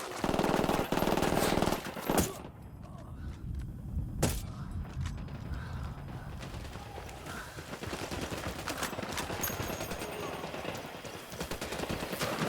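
Automatic gunfire in the tactical shooter Ghost Recon Wildlands: dense, loud bursts at the start, then steadier crackling shots and rumbling combat that continue throughout, with in-game radio chatter in the mix.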